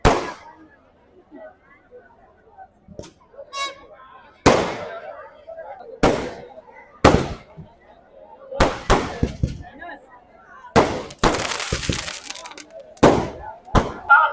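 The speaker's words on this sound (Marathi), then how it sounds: "या ठिकाणी ना इथे फटाक्यांची ते आतिषबाजी होते" Loud, sharp firework bangs and crackling bursts go off one after another at uneven intervals at a Mahashivratri chariot festival at a temple in Anav, some sizzling briefly, with quiet murmuring between blasts.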